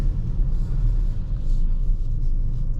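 A car rolling along at night, a steady deep engine and road rumble heard from inside the cabin, constant and close with no voices.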